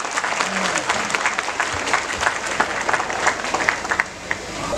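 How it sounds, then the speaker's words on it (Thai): A crowd at a Thai farmers' group gathering claps continuously, a dense, even patter of many hands throughout, fairly close and loud. "พวกเราทำไมไม่ปรบมือเป็นกำลังใจหน่อยนะครับ"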